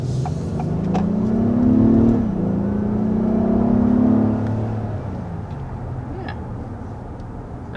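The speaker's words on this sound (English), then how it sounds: "There's a bit of an acceleration, a little bit foiled by the red light here" A 2022 Acura MDX Advance pulls away with a smooth engine hum that climbs in pitch, dips briefly, climbs again, then settles back to a quieter cabin drone.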